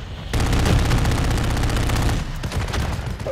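Rapid automatic gunfire in a Call of Duty Modern Warfare 3 multiplayer match, dense loud bursts of shots running nearly continuously with a brief dip before firing resumes.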